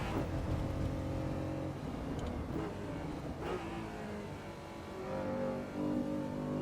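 Old-timer racing car on a flying lap of Brands Hatch in Assetto Corsa Evo: a steady, loud engine drone with pitch shifting up and down through gear changes, continuous and close.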